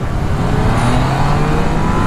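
A Yamaha FZ-09 motorcycle engine, loud and close, revving with a steady rising drone and strong low rumble through the whole short stretch, no talk over it.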